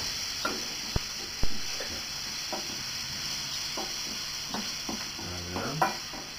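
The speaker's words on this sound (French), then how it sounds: "J'essaie de remuer continuellement de façon que ça n'attache pas au fond de la poêle" Tofu frying in a pan, a constant soft sizzle broken by sharp clacks and scrapes of a utensil stirring against the pan bottom at irregular moments, close and fairly quiet.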